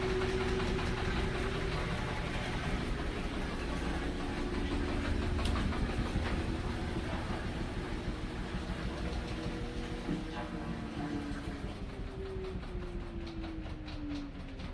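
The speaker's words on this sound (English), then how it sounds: "Here we go, it's spinning." A Samsung stackable washing machine spins with a steady mechanical drone and low hum that holds for the whole stretch. A faint tone glides downward near the end, and no one speaks.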